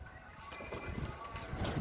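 White pigeons cooing softly in a pigeon loft, a low, steady murmur of coos without speech.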